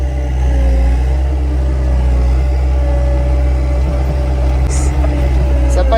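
A mini tracked loader fitted with a mixing bucket strains its engine while climbing a slope, a loud steady droning hum with constant low tones close by.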